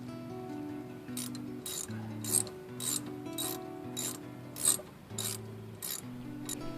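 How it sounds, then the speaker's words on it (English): A torque wrench ratchets in a steady series of crisp clicks, about ten strokes, as a bolt is tightened on the rear brake of a Toyota Camry, close and clear with a low hum behind it and no speech. "Torque it down to 14 foot-pounds."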